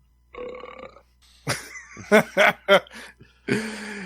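A loud, drawn-out burp rolls out alone, followed by a few short snickering chuckles and then another burst of laughter.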